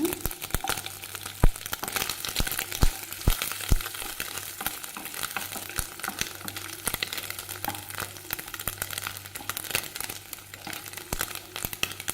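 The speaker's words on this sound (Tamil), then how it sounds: "கொஞ்சம் தேங்காய் சின்ன சின்ன பீஸாக கட் பண்ணிட்டுருக்கேங்க அதையும் இந்த நெய்யிலே வறுத்துக்கலாங்க" Small pieces of coconut fry in ghee with a steady, close crackling sizzle, broken by sharp crinkly pops and the occasional stir.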